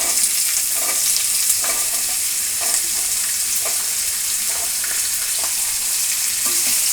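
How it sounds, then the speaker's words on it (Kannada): Brinjal pieces frying in a pan for vangi bath, a loud, steady, dense sizzle with occasional stirring scrapes, close and continuous, with no voices. "ಈಗ ನಾವು ಬದನೆಕಾಯಿ ಪೀಸ್ಗಳನ್ನು ನಾವು ಹಾಕೋಣ."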